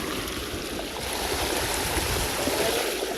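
Water runs from a supply in a continuous, even rush, close and unbroken, with no talking.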